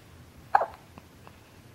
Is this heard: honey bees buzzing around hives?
no